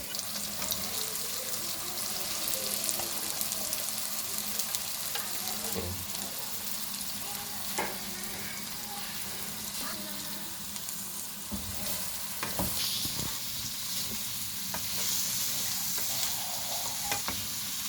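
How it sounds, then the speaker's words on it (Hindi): Carrots, capsicum, cabbage and chicken sizzle steadily in a pan for fried rice, with intermittent scraping stirs and clinks over the continuous frying hiss, close up with no talk. "एक से 2 मिनट आप सब्ज़ी को पकाएंगे।"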